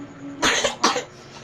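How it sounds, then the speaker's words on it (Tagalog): A baby's cough, two quick close coughs in a row in a quiet room. "inuubo yung baby ko talaga"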